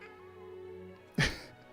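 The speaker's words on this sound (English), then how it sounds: "I have a cat" A pet cat gives a single short meow close by, a sudden cry over a quiet indoor hum with a faint soft sound just after.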